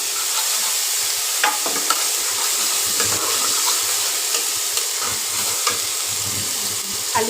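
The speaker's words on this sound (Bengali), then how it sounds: "টমেটো পিউরিটা দিয়ে দেবো" Tomato purée goes into a frying pan for Kashmiri aloo dum and is stirred, a steady sizzle with repeated scraping stir strokes throughout, close and fairly loud, no talk.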